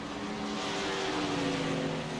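Race car engine in a sim racing game at Dover, a loud sustained drone with a steady pitch that rises slightly through the run, playing alone without talk.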